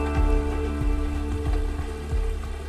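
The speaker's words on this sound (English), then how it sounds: "The rain's coming down harder today" Steady rain falling in the woods, a dense continuous patter close by with no voices.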